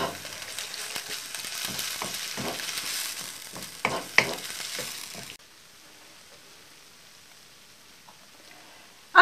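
Pad thai being stirred in a hot pan as peanut butter melts into the sauce, a busy sizzle with scraping stirs for about five seconds, then a quiet lull and a sharp clink at the end.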